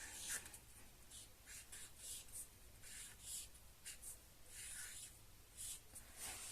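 Chalk or marker strokes on a classroom board as a teacher writes multi-digit numbers, short scratchy bursts in an irregular rhythm, fairly close, with no one talking.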